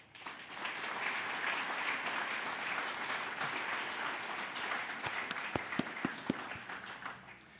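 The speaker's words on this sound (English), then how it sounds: "we can recognize all the finalists now by giving them a round of applause" A gala audience at a national science and technology awards event gives the finalists a round of applause, a dense, steady wash of many hands clapping that fades toward the end, with a few louder individual claps standing out.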